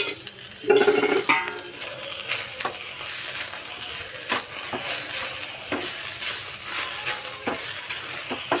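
Okra fries in a little hot oil with a steady sizzle while a spoon stirs it, giving occasional scrapes and knocks against the pan. The clip opens with a louder burst of activity, then settles into a constant hiss.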